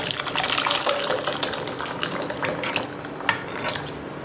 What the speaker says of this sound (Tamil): ஒரு பவுலில் அந்த வெதுவெதுப்பான தண்ணி உள்ளே சேர்த்துக்கிறேன்.